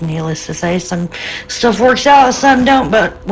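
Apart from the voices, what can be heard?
No everyday noises stand out.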